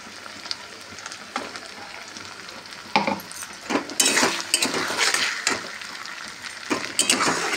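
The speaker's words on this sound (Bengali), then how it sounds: "পেঁয়াজ আমার লাল লাল করে ভাজা হয়ে গেছে। এইবার দিয়ে দেবো আদা রসুন বাটা, সঙ্গে শুকনো লঙ্কা বাটা।" Browned onions fry in a pan as ginger-garlic paste and dried chili paste go in, a quiet sizzle that grows louder midway, punctuated by repeated spoon scrapes and clinks against the metal pan.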